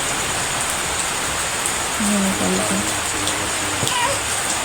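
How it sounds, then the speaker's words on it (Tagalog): Steady rain pours as a broad, even hiss throughout, with a voice briefly audible underneath. "Nagkusod yun ang ulan, bro."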